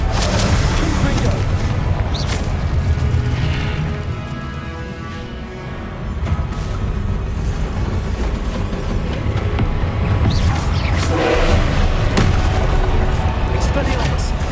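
Loud, continuous booming blasts and explosive impacts from Confringo spells in the video game Hogwarts Legacy, layered with dense rumbling effects and a voice in the background.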